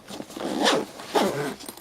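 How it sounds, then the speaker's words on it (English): The zipper on a camera bag for a Minolta Maxxum 7000 35mm film camera, pulled in two quick close zips about half a second apart, crisp and alone. "Got a nice zipper."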